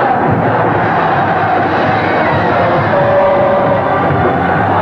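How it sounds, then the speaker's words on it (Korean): A large stadium crowd roars and cheers without a break at a 1982 Korea University versus Yonsei match, a dense, loud, steady wash of voices with no single speaker standing out. "환호가 터진다."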